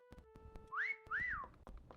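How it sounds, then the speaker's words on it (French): Two rising-and-falling whistled notes inside the video game Meccha Chameleon, clear and fairly close, set over soft background clicks and faint game tones. "Je siffle."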